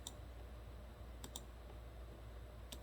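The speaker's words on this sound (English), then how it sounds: "No sound other than the mouse clicking." A few faint, sharp clicks of a computer mouse, spaced apart over a low steady hum.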